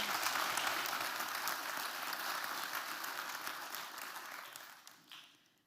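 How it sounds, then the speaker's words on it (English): An audience applauds a speaker at a university forum on the universe, broad dense clapping from a sizable crowd that stays steady, then thins and tapers off toward the end. "Give her a big applause."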